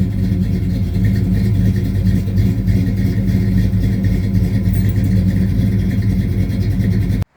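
A Pontiac 400 V8 fitted with Holley Sniper fuel injection idles steadily and loudly up close, a thick low rumble with light clatter that holds even throughout and then cuts off abruptly at the end.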